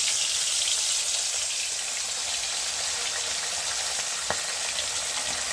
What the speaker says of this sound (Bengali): কড়াতে তেলটা গরম হয়ে গেছে, একে একে মাছগুলোকে দিয়ে ভালো করে ভেজে নেব